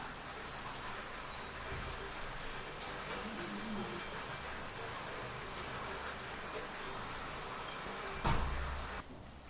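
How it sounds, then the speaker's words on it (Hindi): Heavy monsoon downpour making a steady, even hiss that fills the whole stretch, with a brief louder thump near the end; faint and distant-sounding, with no clear talk over it. "झमाझम बारिश शुरू हो चुके हैं"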